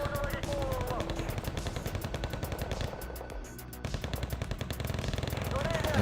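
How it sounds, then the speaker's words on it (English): Heavy machine gun fire on a Wargame Red Dragon battlefield: dense, continuous rattling bursts with rapid overlapping shots. Steady and loud throughout, with only a brief dip in intensity midway. "There's so much machine gun fire, it shoots before I even get near."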